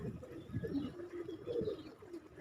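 Pigeons coo softly in a low, rounded murmur, a few pulsing calls repeating close by in a quiet setting with no talk.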